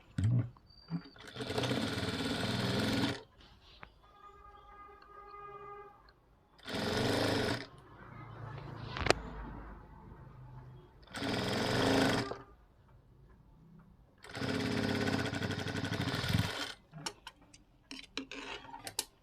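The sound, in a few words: sewing machine stitching a blouse band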